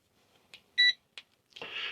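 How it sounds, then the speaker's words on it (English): A handheld propane sniffer gas detector in a winter RV setup gives a few soft clicks and one short, bright electronic beep, followed by a louder breathy hiss at the end, close and alone. "This is a propane sniffer."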